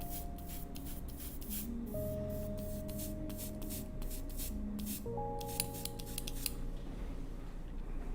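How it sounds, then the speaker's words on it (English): A spray bottle spritzes weathering dust onto a model vehicle for a desert finish, giving repeated short hissing bursts in an uneven rhythm, close and fairly quiet over a steady background hum. "Just spritz that down on there."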